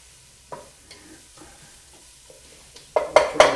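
Onions sautéing in a pan for fish chowder: quiet, sparse stirring scrapes and a gentle sizzle, ending in a few louder clattering strokes close by.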